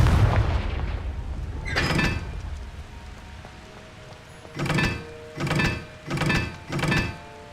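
Confringo fire spell blasts in Hogwarts Legacy land as a series of dull booming thumps: one early impact, then four evenly spaced hits in quick succession near the end, with no speech.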